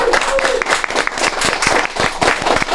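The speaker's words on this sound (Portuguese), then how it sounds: "pedindo uma salva de palmas para os nossos campeões" Applause for the Fortaleza marathon champions: a small group claps close by in quick, uneven bursts, each slap distinct, with a brief tone heard early.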